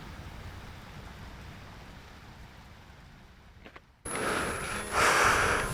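Rain falling on a campsite around a tent during a solo motorcycle camping trip, a steady soft hiss at first, then a sudden louder, closer patter of drops on the tent surface.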